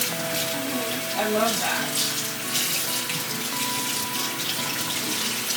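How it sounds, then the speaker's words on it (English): An immersion blender head is rinsed under running tap water, a steady splashing stream that carries on throughout while a person speaks briefly over it. "I'm just gonna rinse off my blender head real quick."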